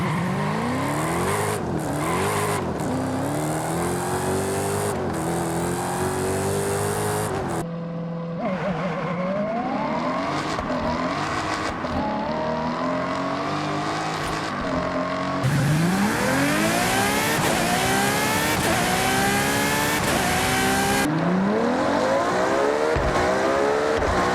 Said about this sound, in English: the car sounds have been noticeably improved, especially on V8s and V12s